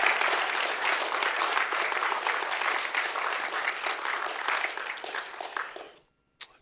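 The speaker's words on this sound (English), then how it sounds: "I think you should clap." A synagogue congregation breaks into sustained applause at a Friday Shabbat service, dense steady clapping filling the room for about six seconds before cutting off abruptly, followed by a brief isolated clap.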